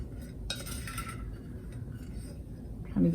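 Metal spoon scooping garlic confit out of oil in a kitchen, a sharp clink against the container followed by soft scraping, then another brief clatter near the end, quiet and close.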